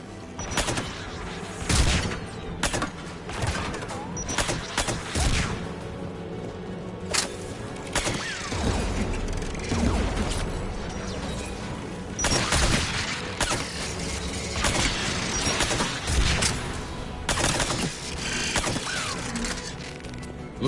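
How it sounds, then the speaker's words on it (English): Anti-aircraft guns pound in a video game, a dense, continuous barrage of heavy bursts with mechanical clanking and rumble underneath, loud and sustained throughout with no voices. "AA guns ahead of us."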